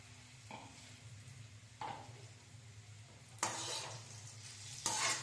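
Sliced bitter gourd fries in a pan with turmeric and curry leaves, sizzling steadily close by, with several bursts of louder scraping and stirring.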